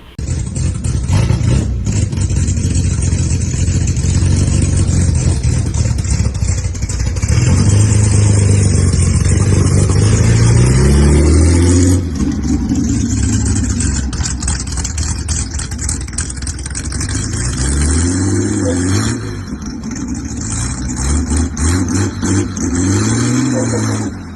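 A 1963 C30 truck's 350 V8, fitted with a solid flat-tappet cam and a 600 CFM carburetor, runs loud and close, repeatedly revving up and dropping back toward a rough idle with no talking.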